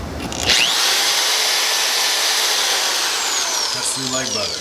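A power drill fitted with a carbide bit bores through fiberglass in a workshop, giving a loud, steady whining grind that runs almost unbroken for several seconds before slowing at the end.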